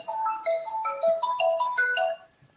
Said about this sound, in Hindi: एक मिनट ना, किसी का फोन है।